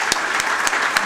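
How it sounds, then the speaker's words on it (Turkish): Audience applause at an international symposium's closing ceremony, a dense steady clapping with a few sharper individual claps standing out, close and loud. "Ve hepsine bir alkış."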